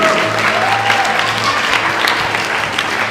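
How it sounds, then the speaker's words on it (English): A competition crowd at ARL Park applauds and cheers, a loud, dense wash of clapping that holds steady for several seconds, with faint whistles and shouts mixed in. "You can hear the crowd go wild."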